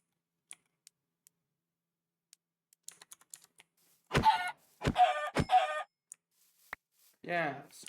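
Chicken clucking in the Minecraft video game: a few loud, close clucks in a short cluster, with soft keyboard clicks before them and another cluck near the end.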